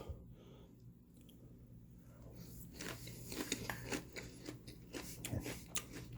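Crunchy cereal softened in milk being chewed up close, a quiet lead-in followed by a run of crisp, irregular crunches that grow louder.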